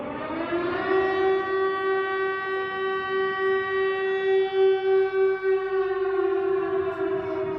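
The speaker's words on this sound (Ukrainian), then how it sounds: "Учні 25-ї школи мали б відзначати цей день у актовій залі, та повітряна тривога внесла свої корективи." An air raid siren sounds a civil defense alert at a school, holding one long, steady wailing tone with rich harmonics, loud and alone.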